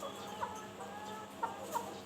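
Chickens in a coop give faint, short clucks scattered over a low background hum, a few soft calls spaced apart with no speech.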